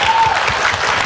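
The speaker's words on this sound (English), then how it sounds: "Round of applause for them." A brief, loud burst of audience clapping for performers at a school day show, dense and continuous for about a second.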